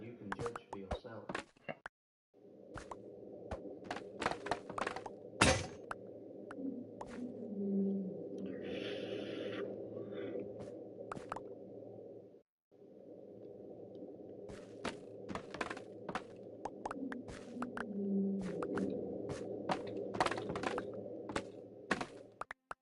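Deep-sea ocean recording from NOAA holding a long, low, droning whale-like sound repeated twice, with a gap between, and sharp clicks and ticks scattered throughout.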